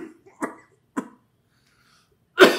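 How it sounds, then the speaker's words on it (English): A few separate coughs and throat clearings, close by, with quiet gaps between them and a louder, harsher cough at the end. "excuse the coughing"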